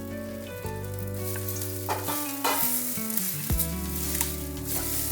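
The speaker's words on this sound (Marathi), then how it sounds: "आपला कांदा आता थोडासा असा भाजत आलेला आहे आणि त्याच्यानंतर ह्याच्यामध्ये एक खोबरं टाकलेलं आहे मी।" Sliced onion with fresh and dried grated coconut roasts in a pan for a spice paste, a soft, steady sizzle with light stirring scrapes heard close up under continuous background music.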